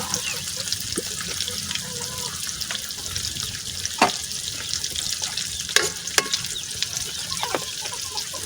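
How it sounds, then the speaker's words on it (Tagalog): Mung beans go into a pan of cooked meat and are stirred amid a constant loud sizzle and bubbling, with occasional sharp scrapes and clinks of the utensil against the pan. "At ilalagay na natin yung ating monggo."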